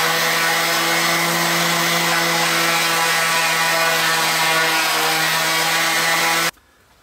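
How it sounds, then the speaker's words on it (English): An electric power sander works the top of a wooden board, a steady, loud motor whine with a constant hum and abrasive rasp running for several seconds before stopping abruptly. "we're going to give the entire top of the board a good sanding"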